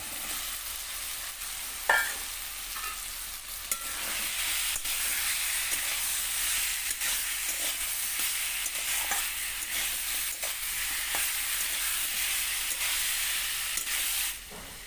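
Chopped potatoes sizzle in a frying pan for a poppy-seed and egg dish, a steady close hiss broken by occasional scraping stirs and light knocks against the pan.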